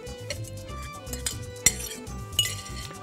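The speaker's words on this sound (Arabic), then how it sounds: "ونقلب" Cubes of chicken breast are stirred in a metal pan for a casserole, with a utensil scraping and clinking against the pan in a rhythmic series of close strokes and a few sharper knocks.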